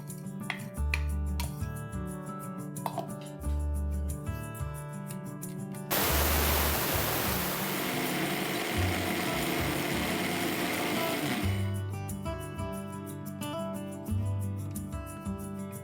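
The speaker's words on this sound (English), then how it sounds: "As the dal has cooled down, I am now adding it in the mixer to make a fine powder." Kitchen mixer grinding cooled dal into fine powder, a loud whirring, hissing burst lasting several seconds between quieter stretches of background music.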